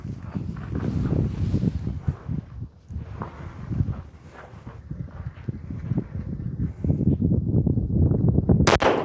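Shots from a Shadow Systems pistol fired through a magazine at a target on an outdoor range, loud sharp reports in an uneven string, close and alone with no talk.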